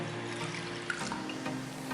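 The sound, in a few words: pouring a cup of water into a bowl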